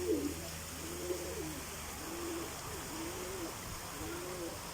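Pigeons or doves coo repeatedly on an Azov Sea beach, soft low calls in a steady rhythm over a constant background hiss, with no talking.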